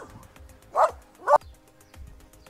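A puppy on a ranch among olive trees gives two short, sharp yapping barks about half a second apart, close by, with quiet background between them.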